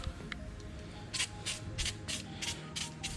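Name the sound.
spraying anti-corrosion lubricant on motor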